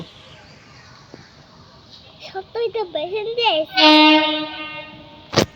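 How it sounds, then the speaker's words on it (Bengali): A freight train passes close by at a rail line, its clattering rumble building and a long steady horn blast sounding loud near the end, with a voice and adult chatter heard briefly over it. "না এটা মালগাড়ি হ্যাঁ মালগাড়ি তো দেখছো"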